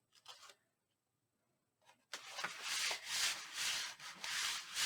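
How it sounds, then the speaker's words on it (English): Paper is burnished down by hand onto a 12x12 wedding album page: a brief rub, a pause, then a steady, close, scratchy rubbing that runs in repeated strokes. "Burnish that down."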